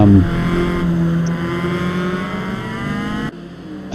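A loud racing car engine in the video game Assetto Corsa Evo roars and revs steadily, pitch climbing through gears, then briefly drops off before surging again near the end.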